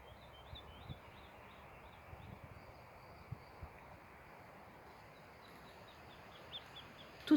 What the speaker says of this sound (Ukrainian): пісні пташки співають, але тихо-тихо